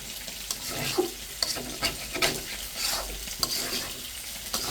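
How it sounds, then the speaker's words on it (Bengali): Chicken and elephant foot yam stirred and sautéed in a pan, a spoon scraping through the browning mix in repeated strokes over a steady close sizzle. "ঢাকনাটা কিন্তু সরিয়ে বারবার নেড়ে দিয়েছি, এখন আবারও নেড়ে দিচ্ছি।"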